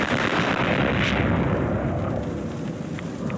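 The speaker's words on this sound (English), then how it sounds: "What an explosion!" A nuke mine going off in Fallout 4, set among broken toilet bowls and triggered by a frag grenade: a loud, sustained roaring blast with a heavy low rumble that fills the whole stretch and slowly tails off.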